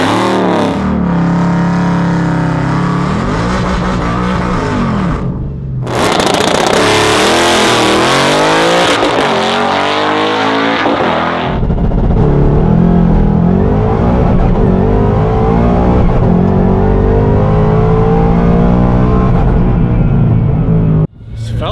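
A drag race car launching at about 4,400 RPM with weight taken out of the back: the engine roars loud and close, rising in pitch through several revving pulls with brief gaps between them, as the car runs down the strip.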